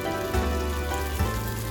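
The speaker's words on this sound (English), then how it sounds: "And look at it, it's sizzling." Pepper and tomato mixture sizzling in a pan over medium heat, a steady close frying hiss with a low hum beneath and no talking.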